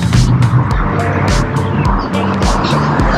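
Busy street traffic in a Long Beach neighborhood heading toward 2nd Street, loud and close, with cars rumbling past in quick succession and a sharp tire squeal among the engine noise.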